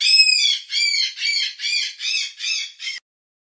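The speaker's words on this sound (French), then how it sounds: "où vivait un grand perroquet rouge" A red parrot in an animated children's fairy story squawks seven times in quick succession, loud, close and shrill, the last call cut short, with no talking.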